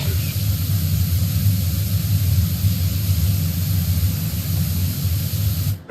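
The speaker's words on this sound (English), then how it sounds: "white noise" A pressure washer in PowerWash Simulator gives off a loud, constant broadband hiss with a low rumble beneath. It holds steady for the whole stretch and stops abruptly at the end.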